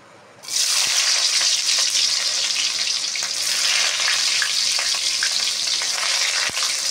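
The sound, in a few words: garlic frying in hot oil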